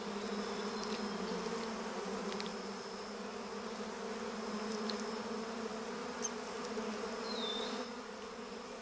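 Giant honey bees cluster on an open honeycomb, producing a continuous dense buzzing drone at moderate volume, steady throughout with a few brief higher whines from individual bees passing nearby.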